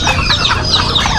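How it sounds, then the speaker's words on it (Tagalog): A flock of farm chickens clucks and squawks busily at morning feeding time, with ducks and turkeys kept alongside them. The sound is a loud, dense, continuous chorus of overlapping clucks close by. "papakain po tayo ng mga alagang manok"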